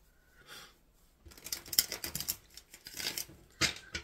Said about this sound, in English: I'm shuffling for the collective